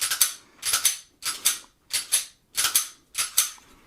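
Slide of a compact 9mm pistol, S&W CSX or SIG P365, racked by hand six times in a steady rhythm, each a sharp close metallic clack-and-snap with brief silence between.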